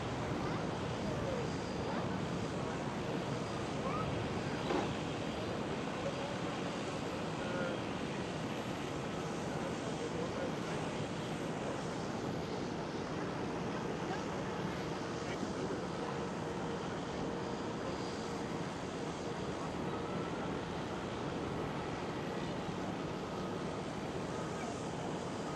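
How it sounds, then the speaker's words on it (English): A KLM Boeing 737 accelerates down runway 24 for takeoff at Amsterdam Schiphol, a steady distant jet roar with wind noise that holds for the whole stretch. "There goes the KLM 737. Slowly accelerating down runway 24"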